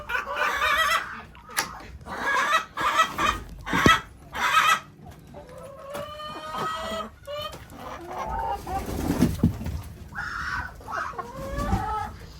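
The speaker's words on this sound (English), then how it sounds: "there is nothing like having chickens" Chickens cluck and squawk close by in bursts, with a rooster-like call or two mixed in, against a busy farmyard background.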